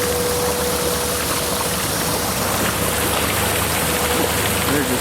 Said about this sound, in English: They're just tearing up the water.